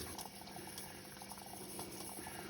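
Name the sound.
dishwasher filling with water after installation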